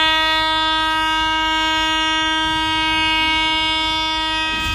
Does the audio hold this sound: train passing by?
yes